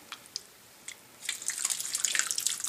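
Yeast mixture is poured into crushed Chilean Merlot grape must, starting with a few faint drips, then a soft, continuous close splashing pour.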